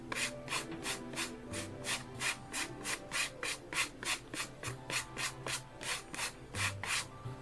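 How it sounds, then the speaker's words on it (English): A brush sweeps excess glitter off a napkin-decorated card, making soft, quiet rhythmic scratchy strokes, roughly two to three per second, close by and steady throughout. "So I'm going to give this one more brush just to make sure we don't have any excess falling off."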